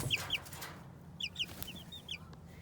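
Young chicks three to four weeks old chirp and cluck outdoors in quick, faint, high calls, scattered in short clusters over a quiet background.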